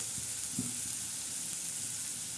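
Sliced onion fries in a pan for a Marathi egg curry, giving a continuous, even sizzle close by with one faint knock, and no voices.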